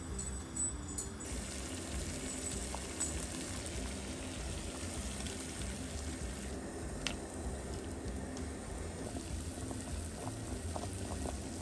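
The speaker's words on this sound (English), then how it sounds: "I'm going to boil them up and I'm going to give them to the fur kids as a" Pork tails boil in a pot of water, a steady bubbling and hissing roll that carries on evenly throughout, with a few faint clinks near the start.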